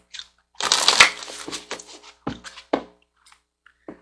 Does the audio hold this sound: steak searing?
no